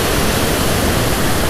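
A mountain creek in the Eastern Sierra near Onion Valley rushes close by, loud and unbroken, as a dense wash of flowing water.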